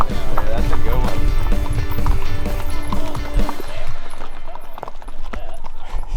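Horse hooves clip-clopping on a ride with cowboys, steady rhythmic steps heard under loud talking and outdoor noise.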